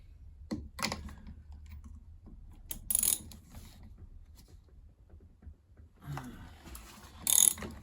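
A ratchet fitted with a 14mm socket loosens a bolt on a Samsung heat pump tumble dryer, giving a few short clicking bursts of pawl ratcheting, close by, with quiet gaps in between.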